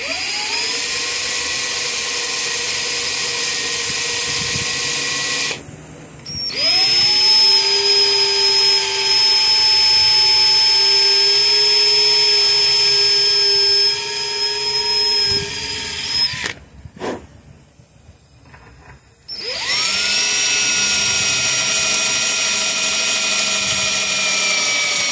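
A power drill bores through a broken bolt, its motor holding a steady high whine in long sustained runs, briefly stopping twice before starting up again at full speed.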